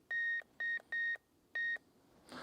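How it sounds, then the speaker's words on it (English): An electronic wire-finding device beeps as it touches a Husqvarna robot mower's boundary cable on a lawn: four steady, clear tones, the first three in quick succession, the last after a short pause, then a brief rustle. "Now we'll get our finding device, which we should get a beeping noise when we're touching the cable like so."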